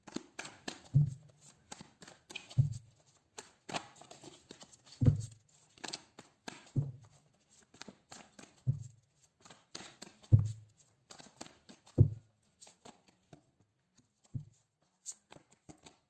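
Tarot cards are shuffled by hand in a quiet room, a series of about nine soft riffling bursts with a dull tap at the end of each, close and evenly spaced, without speech.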